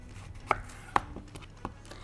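A knife slices pumpkin into thin layers for a gratin, giving three or four distinct sharp cuts against a board, spaced about half a second apart, close and fairly quiet with no talk.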